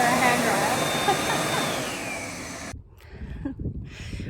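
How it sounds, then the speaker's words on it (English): A loud, steady blowing roar of a hand dryer runs for a few seconds, then cuts off abruptly, leaving quieter room noise and faint voices. "I was trying to get dry on the hand dryer"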